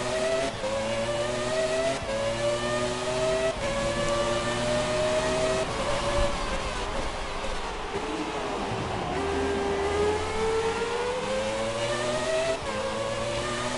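High-pitched engine whine of a Renault R26 Formula 1 car in a racing video game, revving up and down through repeated gear changes, loud and continuous over about fourteen seconds, with brief dips between pulls.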